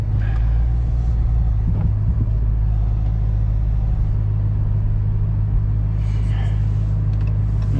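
A rear-wheel drive car drives along a snowy road, its engine a steady low rumble that holds throughout, close and continuous.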